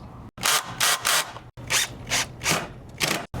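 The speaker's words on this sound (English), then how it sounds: "And now we're going to put in the pocket screws." A drill drives 1.25-inch pocket screws into wood during a truck camper bed build, giving about six close, loud whirring bursts with short pauses between them and no talking.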